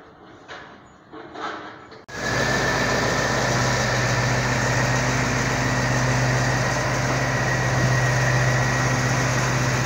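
A Kirovets K-700 tractor's diesel engine cranks and catches about two seconds in, then settles into a loud, steady idle with a constant low rumble and vibration that runs to the end.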